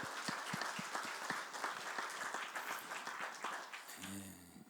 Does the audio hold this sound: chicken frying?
no